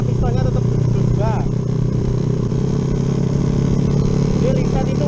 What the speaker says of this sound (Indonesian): Gini kita akan test drive Jupiter MX dengan piston 72.